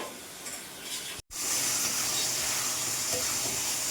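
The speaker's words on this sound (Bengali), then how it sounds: "মাংস দিয়ে দেওয়া হয়ে গেছে। আর মাংসটা কষতে হবে এর সাথে।" Meat being stir-fried and browned in a pan with fried potatoes, a steady close sizzle with stirring scrapes that cuts out for an instant and then resumes, no voices.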